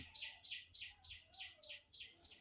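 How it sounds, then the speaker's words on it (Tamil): A sparrow chirps in a steady, evenly spaced series of short, bright calls, fairly faint over a quiet background hum. "இப்போ இந்த குருவி அந்த கீச்சு கீச்சு கீச்சுன்ற சத்தம் எங்களுக்கு கேட்குது"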